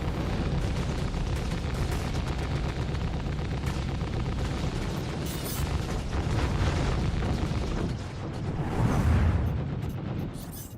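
Missile launches from a warship in a space combat game roar out as a dense, continuous rumbling blast, loud and sustained for several seconds, swelling near the end with a deeper burst.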